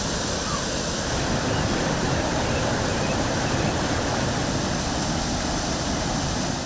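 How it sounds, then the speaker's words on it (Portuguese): Large waterfalls on the Corda and Mearim rivers near Barra do Corda, Maranhão, pour with a steady, dense roar of rushing water that stays loud and unbroken throughout, with no talking. "Imensas quedas d'água."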